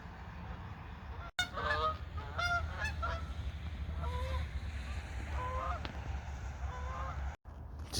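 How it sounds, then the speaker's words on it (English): Canada goose honking outdoors on a freezing, rainy nature walk, a run of repeated nasal honks in short bursts at moderate distance over steady low rumble, with no talking. "Canadian goose. My all-time favorite bird."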